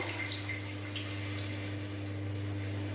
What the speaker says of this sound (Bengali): এবার এর মধ্যে আমি জল অ্যাড করব।